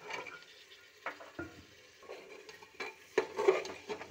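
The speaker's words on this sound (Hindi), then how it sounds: "इसको हम 2 मिनट तक भूनने देते हैं।" Peas, potatoes and carrots frying in a pan while being stirred, with uneven scraping clatters and a louder burst of sizzling and utensil knocks near the end; no one speaks.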